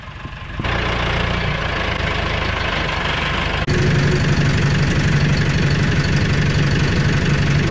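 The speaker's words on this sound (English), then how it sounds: "we got a tractor coming to pull this thing up" A farm tractor's engine runs steadily and loudly while it pulls a heavy load up, after a stalled winch. The low, rumbling drone surges slightly heavier partway through, with no talk over it.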